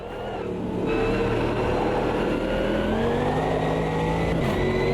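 Race car engine in the Automobilista 2 racing sim, revving loud and steady with its pitch climbing through the gears, with no talk.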